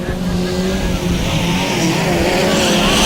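Hot rod race cars roar around an oval track at the 1996 All Ireland finals in Ballyduff, West Waterford, a dense wall of engine noise with shifting pitches that swells toward the end as the cars pass.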